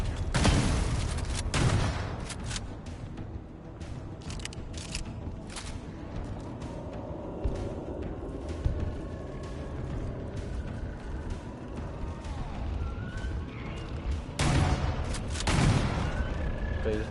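Grenade blasts and gunfire in Halo Campaign Evolved, with booming explosions at the start and again near the end and scattered shots and mechanical clatter between, mixed with a voice talking.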